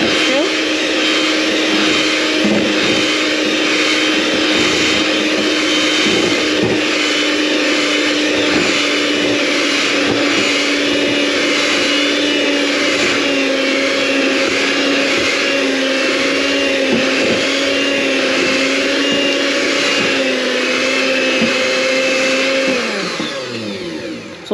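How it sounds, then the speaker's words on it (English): Electric mixer beating flour into an egg mixture for sponge cake, a loud, steady whining motor hum running close and unbroken for over twenty seconds before winding down at the end. "Going to beat up the flour into the egg mixture."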